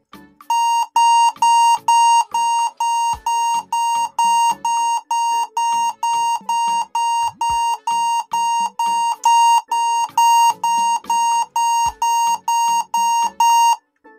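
An HP laptop alarm beeps in a fast, even series of identical electronic tones, about two per second, loud and clear throughout with only faint faraway background noise.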